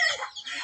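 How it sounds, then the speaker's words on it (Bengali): A chicken gives a short, loud, agitated cluck while a duck bites it, a single close squawk under a second long with no talking. "এই প্রথম দেখলাম জীবনে হাঁস মুরগিরে কামড়াইতে।"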